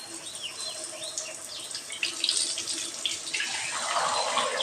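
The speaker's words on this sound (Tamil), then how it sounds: "இந்த வாட்டர் டேப்பில் தண்ணி ஃபோர்ஸ் ஆகுதாங்க" Water splashes steadily from a low-pressure tap into a sink, growing fuller and louder partway through, with faint bird chirps in the background.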